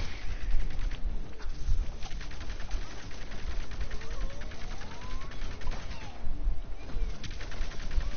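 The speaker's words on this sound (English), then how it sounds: "I'm getting attacked by bloody pea shooters and everything." Pea shooters in a video game fire in a continuous rapid patter of small shots, steady and moderately loud over busy game noise, with no talk heard.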